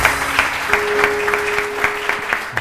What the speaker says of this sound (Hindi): बहुत सारी तालियां उरूज के लिए